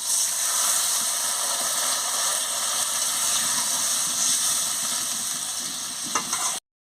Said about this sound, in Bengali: পরিমাণ মতন জলটা দিয়ে দিচ্ছি